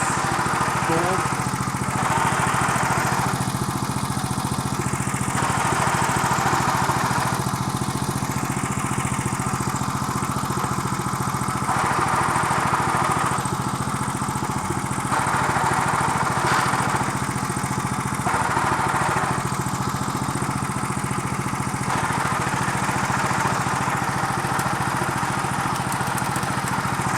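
The small engine of a restored 1963 Bolens Husky 600 garden tractor runs steadily, a loud, close, continuous mower-like putter with slight pulsing swells and no break.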